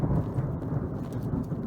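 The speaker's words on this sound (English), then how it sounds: "And that thunder just scared the hell out of me." Thunder rolls heavily through a rain-soaked outdoor setting, a deep, loud, sustained rumble that fills the whole moment with no voices over it.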